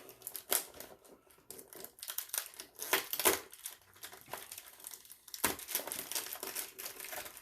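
Scissors cutting open the crinkly foil wrapper of a Star Wars collectible card game pack, a series of close, quiet crinkles and snips with irregular rustling bursts and short pauses.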